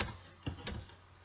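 Keys clicking on a computer keyboard while a search term is typed, a few soft separate taps over a quiet room hum, close and faint.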